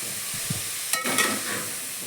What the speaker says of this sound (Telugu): మన క్యారెట్ అయితే సగం వరకు అయితే ఫ్రై అయిపోయింది